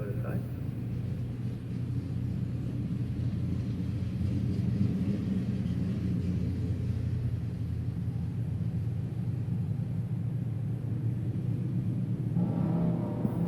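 A Barracuda drag car at a drag strip gives off a steady low rumble of idling engine, close and constant, with a faint rise at the end.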